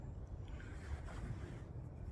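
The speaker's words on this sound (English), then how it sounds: "Very windy day." Wind blowing on a very windy day at the Attenborough nature reserve, a steady low rumble buffeting the microphone with no talk.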